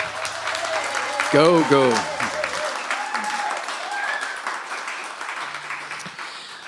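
Audience applause for a band at a live radio concert broadcast, steady clapping throughout with a shouted voice and a brief whooping cheer early on, then talk over the continuing clapping.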